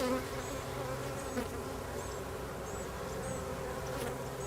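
Honey bees crowd a frame from a queenless hive with failed queen, giving a loud, steady, close buzz throughout with occasional individual wingbeat whines passing by.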